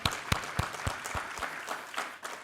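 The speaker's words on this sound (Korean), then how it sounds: "우리 하나님께 감사와 영광의 박수 올려드리겠습니다" Church congregation at a Sunday worship service clapping in unison, a steady rhythmic beat of about two claps per second over a soft hum, moderately faint, with no talking.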